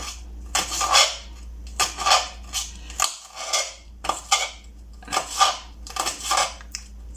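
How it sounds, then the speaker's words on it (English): A knife chops hot spicy pepper on a board in the kitchen, making about a dozen close, crisp cutting knocks in uneven bursts. "Right, so just chopping that up"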